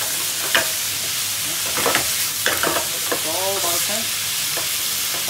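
Chopped leek sizzles and crackles in a dry pan with no oil, stirred with a few close scraping strokes and clicks over a steady frying hiss, with a brief voice in the background.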